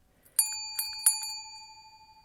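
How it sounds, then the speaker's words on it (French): A bright bell struck three times in quick succession, clear and close, its tone ringing on and fading slowly in near silence. "vous pourrez entendre ce bruit de cloche"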